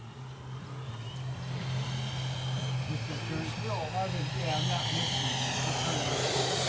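FMS Avanti S 90mm RC jet approaching to land with flaps down, a high ducted-fan whine with a rising hiss that swells as it comes low and slow overhead, heard under a man's speech.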